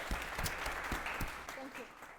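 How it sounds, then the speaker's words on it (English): An audience at a tech meetup on AI and LangGraph claps for the speaker Anu, a moderate, somewhat sparse applause with separate distinct claps and a voice speaking over it. "Can you give her another round of applause?"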